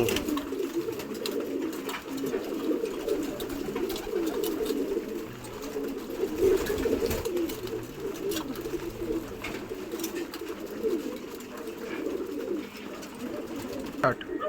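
Pigeons eating amla (Indian gooseberry) in a loft, with soft cooing and low bird murmurs running continuously over a busy background.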